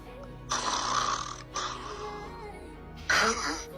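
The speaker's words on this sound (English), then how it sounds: "This program monitors our sleep patterns and records all your snoring throughout the entire night." Snoring is played back from a sleep-monitoring app recording: three loud, rough, throaty breaths in quick succession, heard close and alone.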